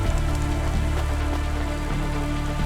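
Steady rain in the cyberpunk game Cloudpunk falls continuously across the whole stretch, a dense hiss of drops on surfaces mixed with a low droning city hum, with no one talking.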